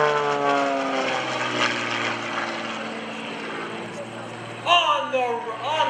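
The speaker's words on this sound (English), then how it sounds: "On the vertical, they're rolling the airplane as he's going up." Charlie Schwenker flies an aerobatic propeller airplane through a vertical rolling climb at the 2012 Greenwood Lake Airshow. A steady, droning engine with layered harmonic tones shifts in pitch as the plane climbs, and a sharper burst comes near the end.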